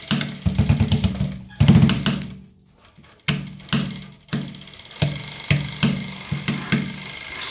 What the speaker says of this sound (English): So the sound you can hear also tells that it's breaking the beads.